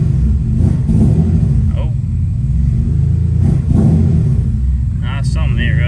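A third-generation Mitsubishi Eclipse engine revs loudly and steadily up close, a dense rumbling drone with rising and falling throttle blips, while a voice briefly exclaims over it.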